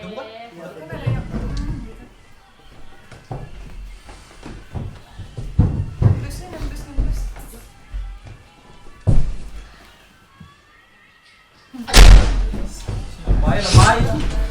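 Heavy thuds and a sharp bang like a slamming door come from a 3D horror sound effect set in a psychiatric hospital, with a loud burst near the end, under excited talk from several listeners.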